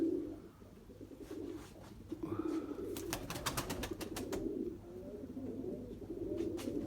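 Young domestic high-flying pigeons coo repeatedly close by, a low rolling murmur, while a burst of wing flapping claps rapidly in the middle.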